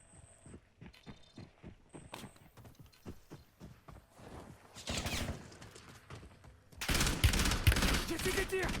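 Gunfire in the video game Call of Duty Warzone comes as scattered, distant-sounding shots and footstep-like clatter, then swells into dense bursts of rapid fire, with a voice talking at points.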